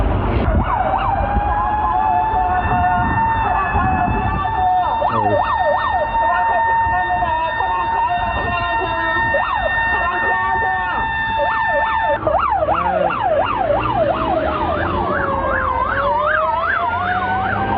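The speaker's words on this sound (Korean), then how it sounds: "뒤에 소방차 온다." A loud fire truck siren wails and yelps continuously over road noise, shifting between sweeping and rapid warbling patterns as it passes close by, heard from an electric motorcycle.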